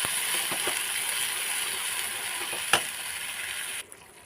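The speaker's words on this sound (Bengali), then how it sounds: "নারকেল সর্ষে পোস্ত আমি সবইটা দিয়ে দিলাম। দিয়ে খুব ভালো করে একটু কষিয়ে নেবো পুরো মশলাটা" A paste of coconut, mustard and poppy seed fries in hot oil with spices, giving a steady close sizzle with a few light clicks, cut off abruptly near the end.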